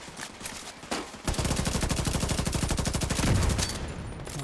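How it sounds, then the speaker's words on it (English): An engineer's deployable turret in The Division 2 fires a rapid, steady burst of automatic shots for about two and a half seconds, loud and close, with the rattling stream swelling slightly near the end before cutting off. "Freaking engineer's turret over here."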